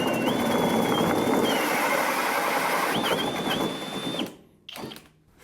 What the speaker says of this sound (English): we're gonna start cutting some tenons